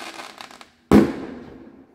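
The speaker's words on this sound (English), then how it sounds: "The clip you just saw was the fireworks." A neighbor's fireworks go off in one sudden loud boom, followed by a crackling rumble that fades over about a second, after a quiet stretch with faint earlier pops.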